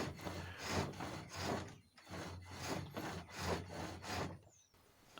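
A 3/4 inch skew chisel shaping hawthorn on a pole lathe, giving quiet, rhythmic rasping cuts in repeated pulses, roughly one stroke every half second, close by, with no talk.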